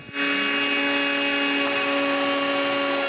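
Power tool cutting grooves through wooden rails of a cabinet frame for solid center panels, a steady loud whining drone with strong tonal hum that holds without a break from start to end.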